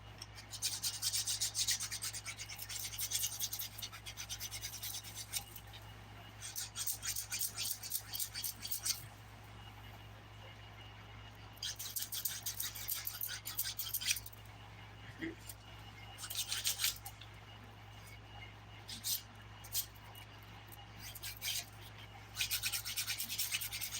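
A 180 grit nail file rasps across fingernails in repeated bursts of brisk back-and-forth strokes, close and steady with short pauses between passes, over a constant low electrical hum.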